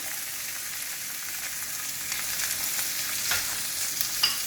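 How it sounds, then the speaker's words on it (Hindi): Carrot hits a hot pan and is stir-fried for savoury vermicelli, a steady close sizzle with scraping stirs building toward the end. "now we add the carrot"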